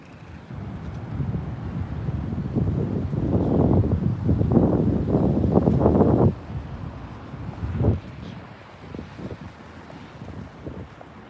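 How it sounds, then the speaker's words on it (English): Wind buffets the microphone in heavy low rumbling gusts on a backstreet in Tokyo, strongest in the middle, then easing to softer intermittent blasts. "Wow, it is windy out."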